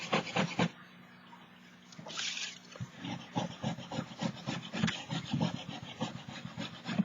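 Scraping wax off a journal cover: close, dry rasping strokes in a quick repeated rhythm, pausing briefly near the start, then continuing steadily and fairly faint.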